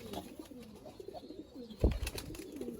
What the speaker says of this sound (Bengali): এই দেখেন দেখছেন একটা কবুতর